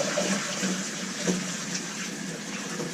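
Water runs steadily into a glass carboy for an initial rinse, a continuous splashing, hollow rush of tap water filling the vessel, close and unbroken with no talk.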